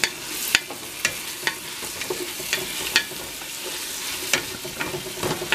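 Bacon frying and being stirred in a pot with sweating onion for zuppa toscana, a steady close sizzle broken by sharp scraping clicks of the utensil at irregular intervals.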